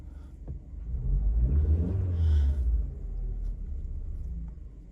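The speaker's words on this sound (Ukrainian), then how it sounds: "Двигун запускається гарно." A 2009 Skoda Octavia Tour engine runs close by with a steady low rumble. It swells into a brief rev in the middle, then settles back to an even idle.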